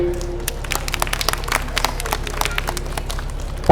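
An audience gives a round of applause at an early-morning gathering of a social welfare organization in Mohakhali, with steady, moderately loud clapping from many hands throughout.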